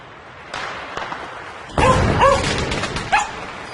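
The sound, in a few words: frightened dog barking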